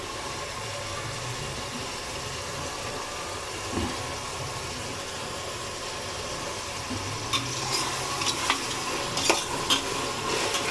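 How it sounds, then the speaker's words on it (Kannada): Ground green paste frying for biryani, a continuous sizzle with spoon stirring and scraping that grows busier and louder toward the end. "ಇದು ಫ್ರೈ ಆದಮೇಲೆ ನಾನು ರುಬ್ಬಿಸ್ಕೊಂಡಿದ್ನಲ್ಲ ಗ್ರೀನ್ ಪೇಸ್ಟು ಅದನ್ನು ಹಾಕ್ತೀನಿ"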